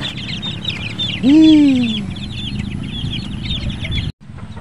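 Chicks in their new, roomier coop peep in a busy, continuous patter, with one louder drawn-out call from a larger bird rising above them partway through, then a brief dropout near the end.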